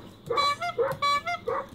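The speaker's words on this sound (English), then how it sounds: "Is that my horn? That's pathetic." A vehicle horn in a video game, played on a 900MHz Compaq Armada E500 laptop, gives five short, reedy, goose-like honks in quick succession, thin and moderately loud.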